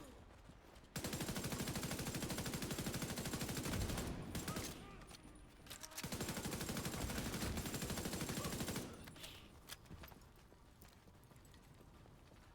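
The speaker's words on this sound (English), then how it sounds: "Where did that gunfire come from?" Bursts of rapid video game gunfire, two long volleys of dense rattling shots separated by a short pause, fairly loud over a low background, then fading to quieter ambience.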